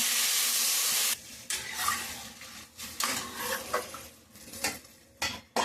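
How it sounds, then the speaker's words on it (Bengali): Water poured into a pan of lightly fried vegetables, a loud broadband rush at first that breaks into uneven splashing and bubbling bursts, with no talk. "সবজিটা হালকা ভেজে নিয়েছি, এখন জল দিয়ে দেবো।"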